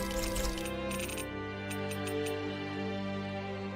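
Coin-like purchase chimes ring out in Tales of Arise on PS5: a bright jingle, then several quick metallic clinks over a sustained tonal hum, with no speech.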